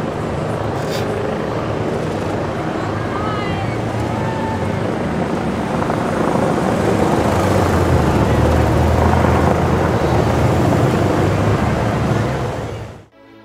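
Loud, steady roar of a Royal Australian Air Force Boeing 737 MAX jet close by, a constant broadband rumble with wind buffeting that holds throughout and swells slightly before cutting off.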